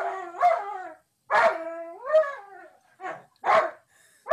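A dog gives a series of drawn-out howls mixed with short barks, close and loud, each call separated by brief pauses, with no other voices.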